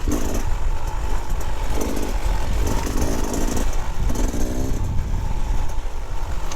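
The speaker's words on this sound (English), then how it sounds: "I'm at very low RPM in second gear, and gee, that just wants to lug nicely." A Beta 2024 Xtrainer 300 motorcycle lugs at very low RPM in second gear on a single trail, its engine a steady close rumble with soft throttle roll-ons and no voices.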